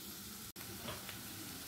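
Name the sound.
paneer lightly frying in oil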